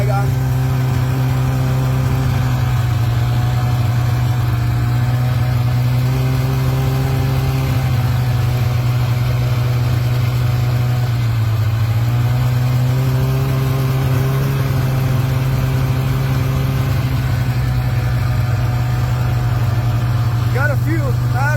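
A car engine on a snowy home driveway, a loud, steady low hum that dips and rises slightly as it moves back and forth, while someone talks over it.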